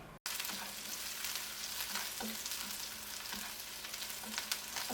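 Onions sizzle steadily in a hot pan for a shrimp glass-noodle stir-fry, a dense continuous frying hiss after a sharp start, with faint stirring taps and no voices.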